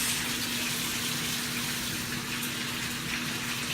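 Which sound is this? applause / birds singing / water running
water running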